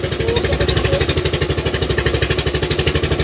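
The engine of a bangka, a Filipino outrigger boat, running close and loud with a fast, even thudding pulse that holds steady throughout.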